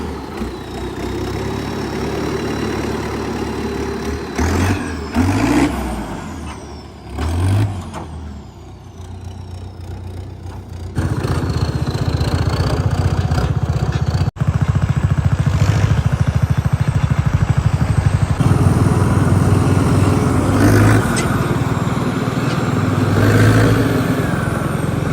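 A Sonalika RX 60 tractor with a cart hitched behind rumbles along, its diesel engine a steady loud drone that swells and shifts as it drives, with occasional clunks and rattles.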